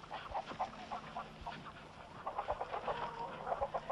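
A flock of chickens clucks and squawks in a fairly close, busy rhythm of short repeated calls, continuing throughout with no talking.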